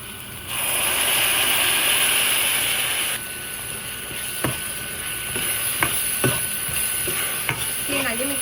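Onion and ground masala fry in a pan with a soft, steady sizzle, followed by a run of sharp clicks and scrapes as a utensil stirs the mixture.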